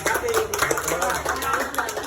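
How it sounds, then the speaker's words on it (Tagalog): Applause at a restaurant ribbon cutting for a pares and mami house, a dense patter of many hands clapping at once, steady and moderately loud, with crowd voices mixed in throughout. "Palakpak!"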